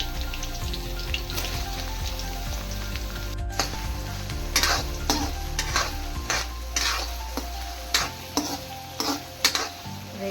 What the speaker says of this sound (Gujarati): હવે લસણ નાખ્યા બાદ હું નાખીશ ડુંગળી.